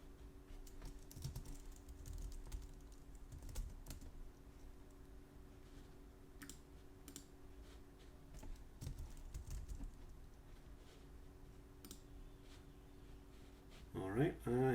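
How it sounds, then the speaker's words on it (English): Typing on a computer keyboard at a host machine to enter a ping command in a terminal, with soft scattered keystrokes running through the clip at low level over a steady background hum, and a louder burst near the end. "Gonna type in, let's just try to type ping my machine."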